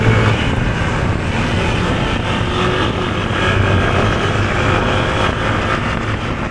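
Motorcycle engine droning steadily as the bike rides a winding zigzag road in Aurora Province, with loud continuous wind and road rumble and no talking.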